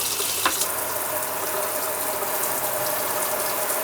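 Water spits and sputters from the faucet of an Airstream Flying Cloud 23FB travel trailer as air is purged from the lines, a dense, steady hissing gush with rattling bursts, close and continuous, no talking.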